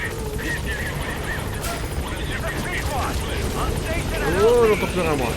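A helicopter in Metal Gear Solid V: The Phantom Pain comes in to a landing zone, its rotor drone steady beneath in-game radio chatter and sweeping musical tones, with a voice speaking over it.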